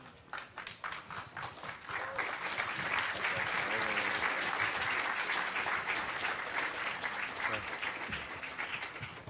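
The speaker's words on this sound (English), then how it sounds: "polite applause would be appropriate, I think" Polite audience applause at a closing ceremony: a few scattered claps quickly swell into a full, sustained round from the crowd, then ease off slightly toward the end.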